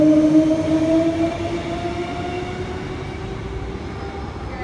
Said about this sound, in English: EMU 48 and 35 now departing.